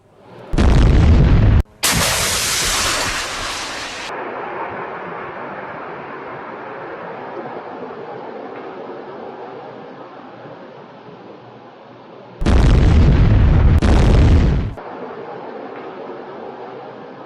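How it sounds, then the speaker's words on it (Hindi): Explosive blasts from Hezbollah anti-tank missile strikes near the Lebanon border: two loud, sharp bursts at the start, then a long low rumble, and two more heavy blasts near the end. "हिजबुल्लाह की एंटी टैंक मिसाइलें लेबनान बॉर्डर के पास इजराइल के सैनिकों को टारगेट कर रही हैं।"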